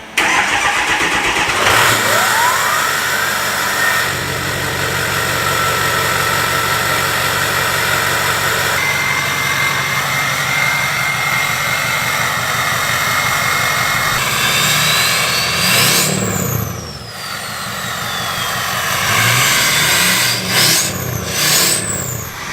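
A 2006 Ford F350 fitted with a 5-inch straight pipe exhaust cranks and starts, then settles into a loud, rough idle with a deep rumble. Sharp revs rise and fall near the end, heard up close.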